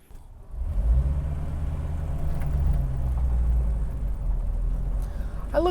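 A 1932 Packard 902 car engine runs steadily on a test drive, a low continuous rumble with slight swells in revving, close and loud throughout with no talking.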